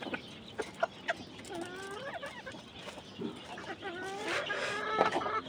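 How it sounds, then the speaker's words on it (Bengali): Egg-laying hens on a poultry farm cluck in a busy overlapping chorus. Short sharp calls and rising, wavering clucks come from several birds at close to moderate range, with steady barn noise underneath. "এইগুলো হচ্ছে আমার ডিমের মুরগি"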